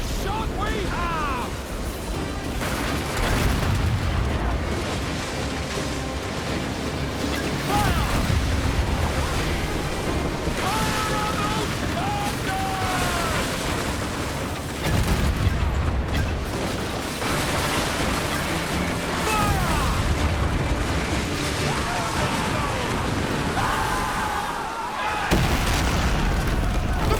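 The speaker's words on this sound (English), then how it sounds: "Uncork the cannons, lad! Fire!" Ship cannon fire in Assassin's Creed Black Flag during a naval fleet battle: repeated heavy booming blasts every few seconds over rolling ocean surf, with voices shouting among the volleys.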